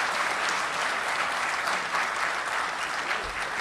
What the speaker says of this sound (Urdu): یہ تالیاں کم ہیں تھوڑی سی آپ کو.